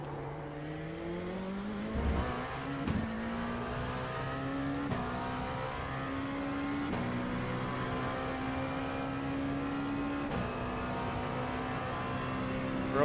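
A race car engine drones steadily around the Le Mans circuit, its pitch stepping and climbing through gear changes, with sharp shifts around two and three seconds and a sustained rising tone afterward, no talking over it.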